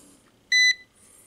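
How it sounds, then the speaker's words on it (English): A single clear electronic beep from a Homelylife HT126B smart multimeter powering on, short and bright, loud against a quiet room. "Has a nice beep"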